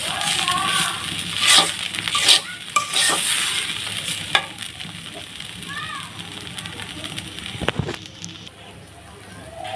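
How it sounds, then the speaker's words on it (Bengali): Salted rice for chicken biryani fries in a pan over moderate heat, with a soft steady sizzle and repeated scraping stirs of a spoon against the pan, joined by occasional background voices. "লবণ দিয়ে দিছি, এভাবে ভাজতে থাকবো।"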